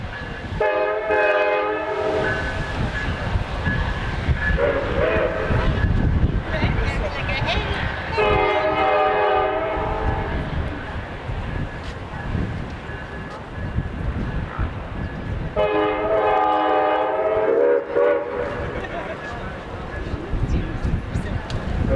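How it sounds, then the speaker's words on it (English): The Amtrak Southwest Chief passenger train rumbles past loudly with steady rolling noise, sounding its horn in several long blasts spread across the passage. "Amtrak train number 3, the Southwest Chief, rolls by."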